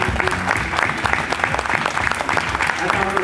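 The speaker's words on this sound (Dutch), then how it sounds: "Geweldig applaus voor onze special guest van dit jaar" Loud, hearty applause from a festival crowd at the Gentse Feesten closing finale, dense clapping with cheering voices and a speaker talking over it.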